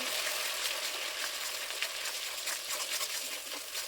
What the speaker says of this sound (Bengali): তারপরে সব মশলাগুলো একসঙ্গে দিয়ে দেবো এর মধ্যে। এবার এটা বেশ কিছুক্ষণ নাড়াচাড়া করে নিতে হবে।